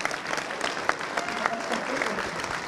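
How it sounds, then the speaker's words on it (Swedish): Studio audience applause during a live Swedish hockey show featuring the Salming brothers, a steady dense clapping from the crowd throughout, moderately loud, with no speech. "Bara det är värt en applåd, eller hur?"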